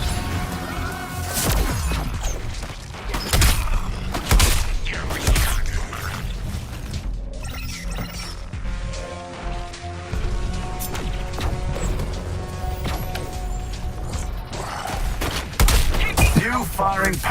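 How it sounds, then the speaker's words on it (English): Artillery barrage in Suicide Squad: Kill the Justice League, with repeated heavy booms, crashes and scattered gunfire in a dense, loud battle din that runs throughout, plus occasional voices. "I'm deploying the artillery just for you."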